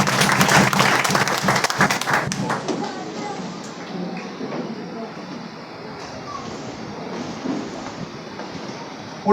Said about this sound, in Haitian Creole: applaudis mon Dieu pendant chaque fois